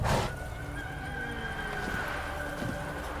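Roach the horse from The Witcher 3 lets out a close, sustained whinny over a steady game ambience with faint clip-clop hooves.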